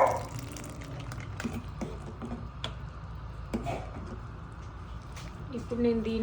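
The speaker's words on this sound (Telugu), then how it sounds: "ఇప్పుడు ఇంత సగ్గుబియ్యానికి ఒక 1/2 లీటర్ పాలు పోస్తున్నా." Milk pours into sago pearls in a pot for jaggery-sweetened payasam, a soft liquid splashing and filling sound running beneath someone talking in Telugu.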